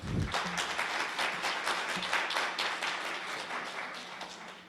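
A room full of people at a press conference for Alabama A&M University and the AACSB accreditation body breaks into a steady round of applause. The dense, even clapping holds for several seconds at a fairly distant, moderate level, with no talking.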